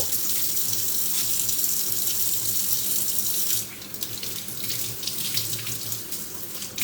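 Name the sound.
washing hands under running tap water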